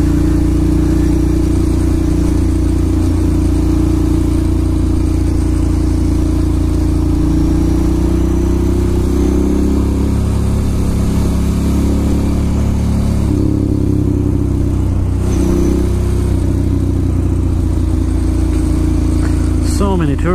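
A Ducati Monster motorcycle engine hums steadily and loudly while riding through Manhattan traffic, with dense wind and road noise and slight shifts in engine pitch, and traffic ambience in the background.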